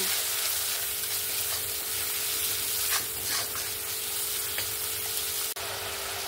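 Spice paste of chilli powder, turmeric and cumin fries in a pan for a Bengali fish curry, giving a steady close sizzle with a few scraping stirs and no talking.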